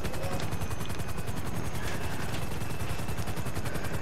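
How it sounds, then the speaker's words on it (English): Police gunfire aimed at a player's helicopter in a video game, rapid bursts of shots crackling over the steady loud drone and rotor thump of the helicopter, continuous and close throughout. "Oh no, they're shooting me."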